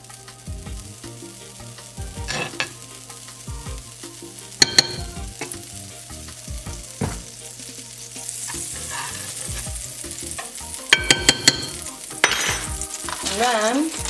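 Vegan butter melts and sizzles in a non-stick iron pan, a steady soft frying hiss broken by scattered clicks and light utensil taps, heard up close without speech.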